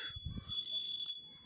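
A small homemade electric bell, driven by a 5V motor on a 3.7V supply, gives a few low thumps and then one continuous high, bright ring lasting under a second before cutting off.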